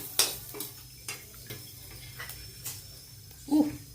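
Garlic and ginger roasting in oil in a pan, heard as a handful of spaced metal clinks and scrapes from stirring over a soft low crackle, close by and without speech.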